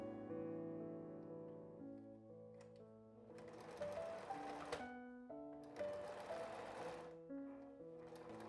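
A sewing machine runs a straight stitch along a fabric scrunchie seam in steady whirring bursts with a pitched motor hum, stopping and restarting, close and moderately quiet.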